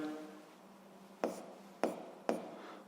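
Writing while working a physics problem: three quiet, crisp scratching strokes spaced about half a second apart, following a faint trailing voice at the start.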